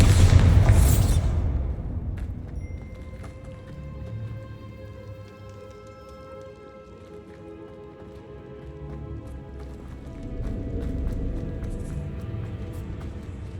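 A Bombarda blasting spell explodes in Hogwarts Legacy with one loud, close boom at the start, then a scattering rumble and debris that fade over several seconds before low ambient music rises again.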